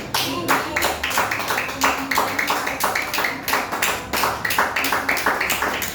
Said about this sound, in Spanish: Dale aplausos al Señor